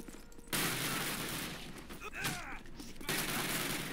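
Rapid gunfire bursts from a Call of Duty match, loud and dense with a sharper crack in the middle, over continuous game ambience while a player talks in French.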